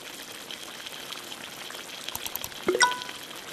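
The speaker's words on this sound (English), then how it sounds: "Grab the water and pour it." Water is poured into a stock pot sitting on a stove: a short, splashy pour with a rising filling tone near the end, after a quiet, steady background.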